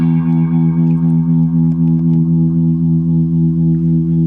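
Sustained, steady clean electric guitar tone through a Fender Mustang I amp's Twin Reverb model, with a warm, full low end and a light spacious reverb tail, played on its own with no voices.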